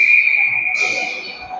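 A referee's whistle shrills at a youth bantam ice hockey game, one long steady blast lasting over a second with faint arena noise beneath.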